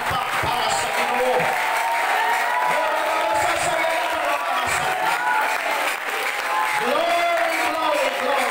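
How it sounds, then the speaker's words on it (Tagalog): Church congregation applauding during a worship service, loud sustained clapping mixed with cheers and whoops, while voices and tonal singing or shouting rise over the crowd. "Sa masigabong palakpak para sa Ginoo."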